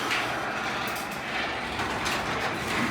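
A Chamberlain MyQ opener moves a garage door with a steady rumbling, rattling drone that holds at an even loudness throughout.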